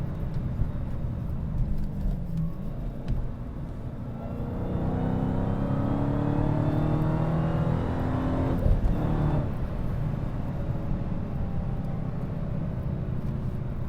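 A 2016 Dodge Challenger Hellcat's supercharged engine revs and accelerates, a loud rising roar that swells in the middle and then settles into a steady drone, with no talking.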